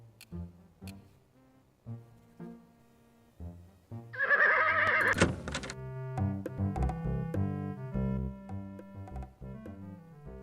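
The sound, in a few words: horses neighing, from video game Freddy Pharkas: Frontier Pharmacist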